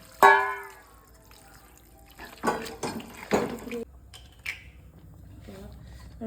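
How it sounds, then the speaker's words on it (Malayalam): Warm water splashes into a pan of lime and dates pickle in a few short pours, with liquid sloshing in bursts around a clatter at the start. "കുറച്ച് വെള്ളം ചൂടാക്കാൻ വെച്ചിട്ടുണ്ട്, അത് ഒഴിക്കണം. ശരിക്ക് ചെറിയ ചൂട് വെള്ളം കേട്ടോ."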